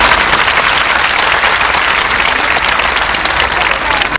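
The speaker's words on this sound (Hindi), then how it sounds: "तालियों के महास्वर से हम इस तथ्य का अभिनंदन करेंगे।" Sustained applause from an audience at a Hindi spiritual gathering honoring a guru, steady dense clapping throughout at close, loud level with no voices over it.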